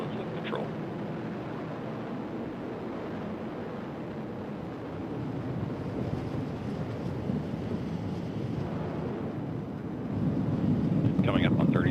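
An Atlas V rocket with its RD-180 engine roars in flight during a satellite launch, a distant, steady low rumble that thickens and swells toward the end, with faint commentary beneath.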